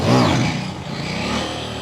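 A KTM 790 Duke motorcycle engine drones steadily while riding, loud and close, with a brief rising rev at the start and rushing wind noise throughout.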